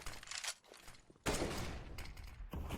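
Bursts of gunfire from a CS:GO match, including AWP sniper shots, crack out in loud broadband blasts with a sharp onset midway and another near the end, amid busy game noise.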